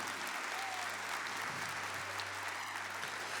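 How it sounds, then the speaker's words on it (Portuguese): Applause from a Catholic church congregation during a Mass about healing and deliverance, fairly quiet and distant-sounding, a steady wash of clapping with a faint low hum underneath. "Aplauda o sacramento da confissão."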